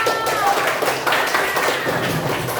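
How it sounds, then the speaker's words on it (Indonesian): Classroom applause for fellow students after a group presentation, a brief burst of many hands clapping together, fairly close and loud, with a few voices mixed in. "kasih aplaus dulu untuk temannya"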